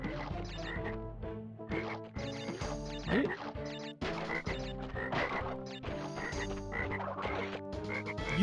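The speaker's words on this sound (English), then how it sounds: "I hate these frogs, dude." Video game frogs in Crash Bandicoot 3 croak loudly and repeatedly over a busy, continuous game soundtrack, with the deep croaks recurring in an uneven rhythm throughout.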